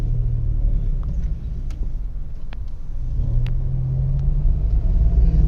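Road traffic at a busy street crossing near a building, with cars rumbling past close by in a steady low drone, one engine swelling louder midway and the noise rising again toward the end.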